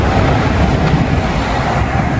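A train rolls past close by, a loud, steady rumble and rattle of rail cars with a dense wash of noise and no voices over it.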